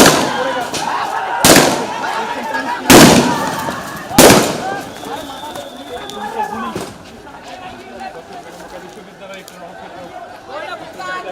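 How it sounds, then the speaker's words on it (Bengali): Police fire gunshots amid a crowd: three loud, sharp bangs spaced about a second and a half apart ring out over steady crowd chatter and voices, followed by fainter commotion. "পুলিশ যে গুলি করছে এটা কোনো হলো?"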